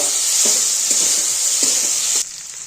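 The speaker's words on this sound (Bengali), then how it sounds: "এইটা দিয়ে একটু আগে ভালো মতো নাড়াচাড়া করে নেব" Okra stirred with ginger paste in a frying pan sizzles loudly while a spatula scrapes in a few regular strokes, before the sizzle drops to a quieter hiss near the end.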